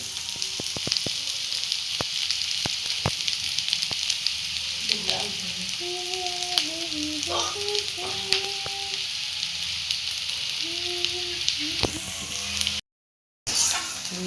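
Onions sizzle and fry steadily in a pan for a home-cooked duck meat dish, a close hiss with a few soft clinks and stirring sounds, ending in a brief cut of silence.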